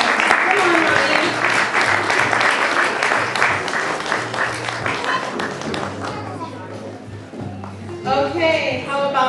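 An audience at a Montessori school fundraiser applauds children modeling on stage, steady dense clapping that thins out toward the end while voices and cheers carry over it.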